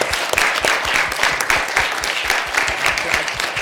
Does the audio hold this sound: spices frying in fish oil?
no